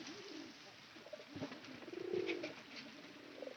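Pigeons cooing quietly in a loft where hens are laying, soft low coos rising midway through, faint and somewhat distant over light background noise.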